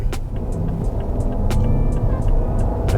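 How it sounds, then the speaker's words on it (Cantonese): A Rolls-Royce Phantom Extended Series II accelerates with a low, smooth engine rumble heard from inside the car, steady and moderate, with a few faint clicks and ticks over it. "呢下加速其實個力已經表現咗出嚟。"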